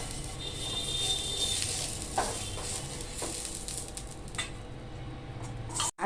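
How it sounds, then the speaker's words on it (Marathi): Oil being rubbed over a hot griddle with a cut onion: a soft, steady sizzle and hiss with a few brief squishy scrapes, fairly quiet and close, no voices. "आपण ना असं कांद्याने तेल लावायचं आहे सर्व बिड्याला ना व्यवस्थित असं ना कांद्याने तेल लावून घ्यायचं आहे"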